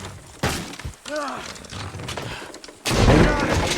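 A wooden structure being pulled down by horses in the video game Red Dead Redemption 2, with a heavy cracking, crashing collapse near the end following a thud and a horse's whinny, with a voice speaking briefly earlier.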